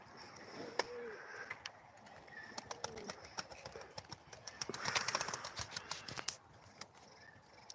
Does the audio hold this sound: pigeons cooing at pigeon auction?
yes